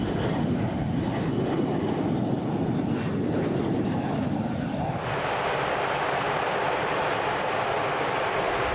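Jet engines of a Boeing KC-135 tanker aircraft, a 707-derived military airframe, give a steady, loud broadband roar that holds throughout, shifting tone partway as if the aircraft passes or the engine note changes.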